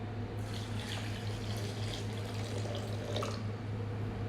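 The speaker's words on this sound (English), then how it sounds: "Put a little bit of water in." Water poured into a blender jar over cut-up fruit for a seasonal smoothie, a steady close trickle and splash running for several seconds without talk.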